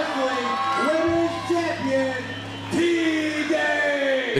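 A crowd at a charity wrestling event cheers and whoops loudly after a championship pin, voices yelling and bellowing in waves that dip briefly and then surge again.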